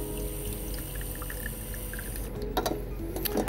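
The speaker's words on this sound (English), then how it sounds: "I'm going to cover the ribs with water." Water pours steadily into a pot of ribs, a continuous rushing splash that brightens and grows more agitated near the end, with no talking.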